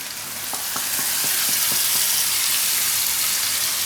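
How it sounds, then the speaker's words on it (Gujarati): Ginger and chili paste sizzles steadily in hot oil for a spinach and brinjal curry, a dense continuous frying hiss with a few light clicks of a spoon near the start. "હવે આપણે એમાં બીજા મસાલા નાખીશું. આમાં આપણે નાખી દઉં આ આદુ અને મરચાંની પેસ્ટ."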